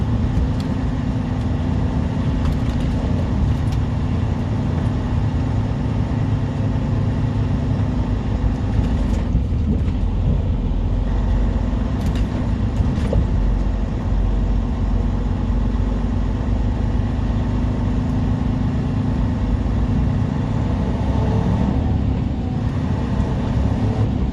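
Steady low engine rumble and road drone from inside a truck cab cruising along a highway near Kingman, Arizona, loud and continuous throughout with no talking.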